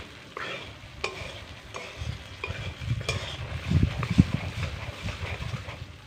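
Spice masala stir-fried in oil for a raw banana curry, a steady close sizzle with repeated scraping and stirring clatters of a spoon against the pan, growing busier toward the end.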